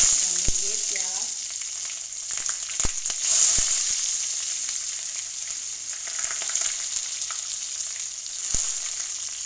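Panch phoron and onion frying in oil for a Manipuri fish curry, a continuous close hissing sizzle with a few sharp knocks of the stirring utensil against the pan and brief speech early on.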